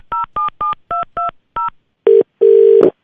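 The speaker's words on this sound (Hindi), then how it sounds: "आपने जो नंबर दे रखा है अपनी गर्लफ्रेंड का, मैं उस पर फोन कर रहा हूँ" A phone number is keyed in on a telephone: six crisp DTMF beeps in an uneven rhythm. Two longer, louder tones follow as the call connects, all loud and close with no talking.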